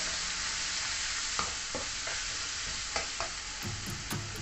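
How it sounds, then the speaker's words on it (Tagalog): A spatula stirs dried baby shrimp and ground pepper in a hot pan of sautéing Baguio beans, giving a steady close sizzle with scattered scraping clicks throughout. "And then immediately I put in a ground pepper. And then just give it a stir."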